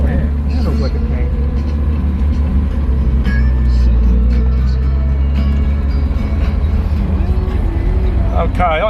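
A Mercedes 230 SL with mechanical steering drives with its engine at low RPM, a steady loud low rumble under continuous close conversation between people in the car.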